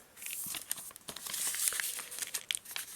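Origami paper for a crescent moon being folded and pressed flat, a run of soft, close crinkles and crisp rustles with a few sharper creases, no talking.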